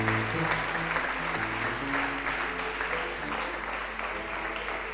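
A church congregation applauding, a dense, steady wash of clapping from many hands that holds at a fairly even level for the full stretch, with some voices and background tones mixed in.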